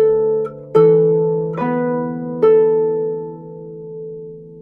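Piano playing a single bar of a piece, four separate struck notes or chords spaced about a second apart, each ringing and decaying, clear and close with no talk over it.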